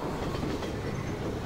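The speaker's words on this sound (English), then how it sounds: "let's wait for this train to pass." A train rolls past in the Half-Life 2 video game, a steady, loud, continuous rumble with faint clickety-clack of wheels over rails filling the short stretch without pause.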